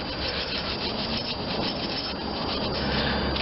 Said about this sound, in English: I'm going to start by just brushing.